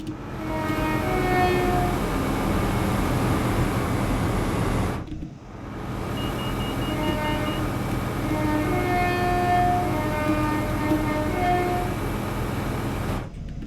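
A West Midlands Rail Class 170 Turbostar diesel multiple-unit train in a video game rumbles steadily at about 38 mph, with engine drone and rail noise, a brief pause, then the running sound resumes loudly.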